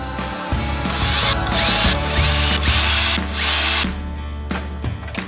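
A tiny drill bit bores wire channels in a DIY guitar tone capacitor sampler, the power drill whining loud and close in steady bursts that rise and dip as it spins up and eases off, with no talk.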